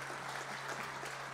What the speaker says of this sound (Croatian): Molim vas, pozdravimo jednim velikim pljeskom